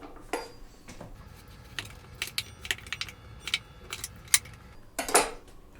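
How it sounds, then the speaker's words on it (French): A kitchen knife slicing a squash into thick rounds for a hamburger recipe, a series of sharp, close cutting clicks against the board, irregularly spaced, with quiet pauses between cuts. "On va la trancher à peu près sur 1 cm d'épaisseur."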